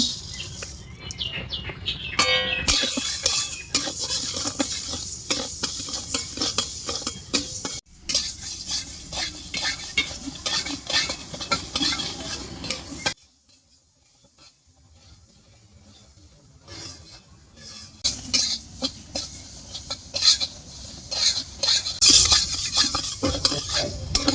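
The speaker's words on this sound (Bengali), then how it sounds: "তো দেখো প্রথমে ডালটাকে একটু ভেজে নেব" Moong dal dry-frying in a pan while being stirred: loud, continuous scraping of a utensil against the pan over a sizzling hiss, with a quieter pause in the middle before the stirring resumes.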